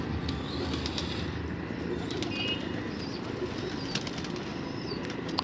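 A wild pigeon flaps its wings as it tries to land near its nesting mate, a soft continuous fluttering rustle over steady outdoor background noise, with faint chirps and no speech.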